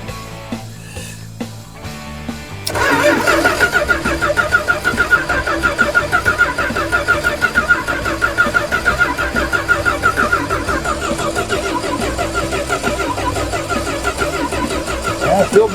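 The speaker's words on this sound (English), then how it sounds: "She'll probably have to crank over for a good little bit before she starts maybe bringing up fuel" A car engine cranks for about two and a half seconds, then catches and settles into a steady, loud, close idle that runs on without a break.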